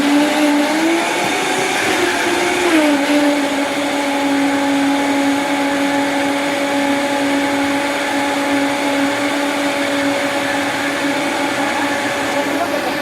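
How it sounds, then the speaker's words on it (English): Countertop blender whirring steadily through curried broccoli soup, a loud close motor hum that dips in pitch once early as the load settles, then holds an even drone. "Everything is in the blender. Let me put it all together. And you don't need to blend it very long."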